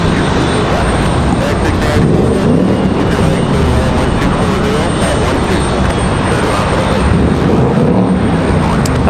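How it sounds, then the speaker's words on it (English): A Delta airliner at Raleigh Durham battles strong, gusty wind, its engine roar loud and sustained, mixed with buffeting wind noise, and a voice talks over it at times. "Let's capture Delta, struggling with the wind here"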